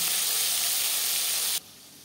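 Rohu fish fries crisp in hot oil, a loud, dense, steady sizzle that holds evenly and then cuts off abruptly near the end.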